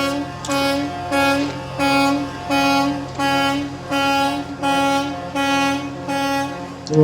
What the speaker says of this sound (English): all the noise from the horns honking is canceling out his microphone